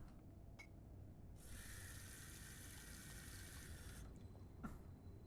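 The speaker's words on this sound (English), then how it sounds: "That was the hot water." Hot water gushes steadily from a tap in the video game Indigo Prophecy for a few seconds, a broad rushing hiss that starts abruptly and cuts off, with faint clicks before and after.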